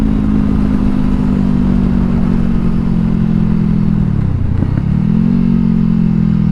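A Honda CBR500R engine runs nearby with a loud, steady mid-pitched drone. Around the middle the pitch drops briefly before climbing back, and no one talks.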